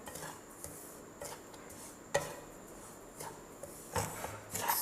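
Semolina and dry coconut are dry roasted in a pan over low heat, with a spatula scraping and clinking against the metal in irregular strokes, a few louder knocks standing out over a faint background hiss.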